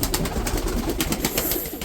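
A Sivas blue pigeon, a big mirror-tailed cock in a loft, cooing in soft repeated throaty pulses, close by with no talk.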